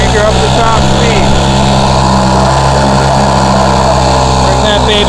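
A 1984 Johnson 2 horsepower Seahorse vintage outboard motor runs at top speed, a loud steady buzzing drone close by that holds constant throughout.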